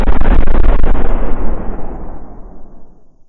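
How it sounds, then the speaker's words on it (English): A massive factory explosion sound effect: a huge close boom with deep rumble that rolls on and slowly fades over a few seconds, no voices. "The explosion threw us forward, singeing our hair, slamming us into the dirt outside."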